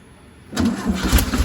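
A 1967 VW Beetle parked for over 20 years cranks and catches, its air-cooled engine jumping from near silence into a loud, rough, close running roar.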